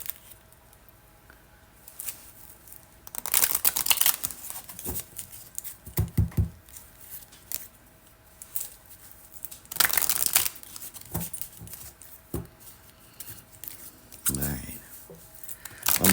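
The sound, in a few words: shuffling oracle cards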